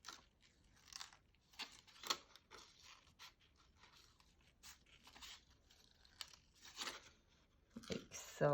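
Paper being trimmed around a card piece with small scissors, producing a string of short, crisp snips and rustles close by, some louder than others, with quiet pauses between cuts.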